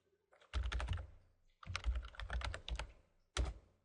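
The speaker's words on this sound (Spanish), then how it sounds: "y tecleando localhost." Fast bursts of computer keyboard typing, crisp close clicks in three runs separated by short pauses, as a web address is entered on a Linux Ubuntu machine.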